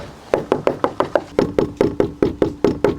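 A screwdriver taps a sheet metal door panel, part of the rear wall fabricated during an 80 Series rebuild, in about fourteen crisp, evenly spaced knocks, each with a short ringing decay, loud and close with no talking.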